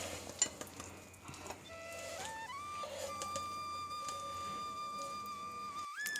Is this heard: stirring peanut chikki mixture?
yes